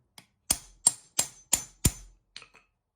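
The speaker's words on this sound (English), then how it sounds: "just going to hammer a little bit more" Five sharp hammer strikes ring out on a metal jalousie window part at an even pace, followed by a couple of lighter taps, each with a brief clanging decay.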